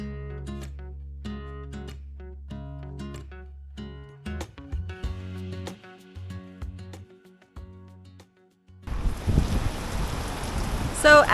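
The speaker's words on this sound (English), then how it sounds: "we've got a rain cell that's passing over" Music plays for several seconds, then rain from a passing storm cell over a boat being restored as a floating home rushes in as a loud, steady hiss that swells toward the end.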